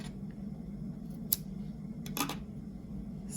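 Scissors snip yarn at the end of a crochet amigurumi heart keychain: two short, crisp cuts about a second apart over a quiet room hum, with no talking.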